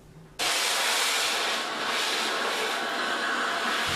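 The Flying Scotsman steam locomotive departs on the Swanage Railway in Dorset, a sudden loud, steady rush of hissing steam that starts abruptly and holds strong to the end.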